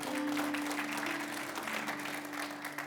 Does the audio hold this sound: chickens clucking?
no